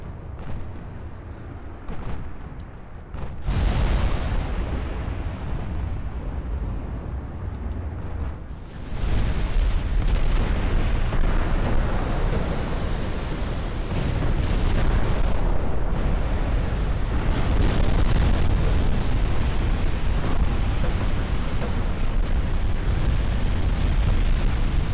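Eight-inch battleship guns fire in a naval warfare game, booming salvos rolling into a continuous heavy roar of cannon fire and explosions that stays loud for most of the stretch.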